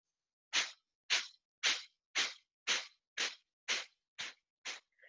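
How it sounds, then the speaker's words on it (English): Kapalabhati fire breathing in a core-focused exercise session: nine sharp, forceful exhales at a steady, even pace, each a short breathy burst close to the mic, with silence between and no talking. "So Kapalabhati is kind of a translation for fire breathing."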